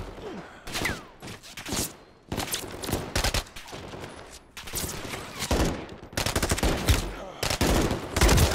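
Automatic gunfire in the 2023 video game Call of Duty Modern Warfare 3 rattles in loud, close bursts, repeated sharp volleys separated by brief pauses.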